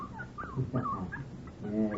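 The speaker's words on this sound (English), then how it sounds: "What do we do with the pup?" Puppy whimpering, a few soft high whines and yelps close by, with quiet background.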